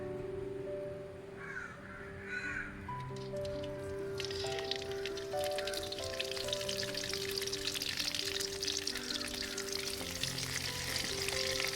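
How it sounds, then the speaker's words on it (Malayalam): Curry leaves frying in hot coconut oil in a pan, the sizzle swelling into a loud crackling spatter, with crows cawing in the background and steady tonal hums throughout. "ഒരു ചട്ടി വെച്ച് അതിലേക്ക് വെളിച്ചെണ്ണ ഒഴിച്ചു കൊടുക്കാം ചൂടാവുമ്പോൾ കറിവേപ്പില കുറച്ച് കറിവേപ്പില ഇട്ട് കൊടുക്കാം"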